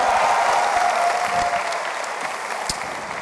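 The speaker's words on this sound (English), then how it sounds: "So give yourself a round of applause for being here." An audience at the OnePlus 6 launch event claps in sustained applause, a loud, dense wash of many hands from a large crowd, slowly tapering toward the end.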